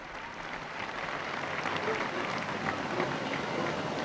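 A large crowd in St. Peter's Square cheers and applauds steadily as the Pope greets them at the Angelus, a broad wash of clapping and voices heard from a distance.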